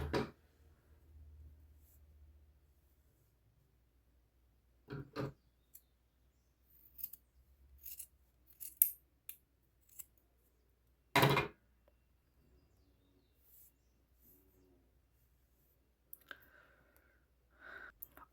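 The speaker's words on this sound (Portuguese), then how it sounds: "Vai cortando aos pouquinhos pra não diminuir demais" Scissors snip through yarn in a few separate sharp cuts during a crochet bag project, close and fairly quiet, with soft handling noises and long quiet gaps between cuts.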